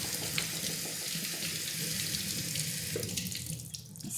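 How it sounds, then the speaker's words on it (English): Raspberries being washed in a colander under a running kitchen tap, a steady close rush of water splashing into the sink with no talk. "let's go ahead and wash these as well from our colander"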